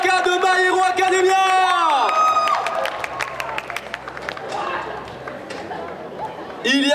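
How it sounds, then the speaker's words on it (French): Audience at an otaku festival cosplay contest in Châlons applauds and cheers loudly for cosplayers, a dense continuous roar of clapping and whoops under an announcer's voice and music, easing slightly midway before swelling again. "Vous pouvez les applaudir très très fort, messieurs, dames"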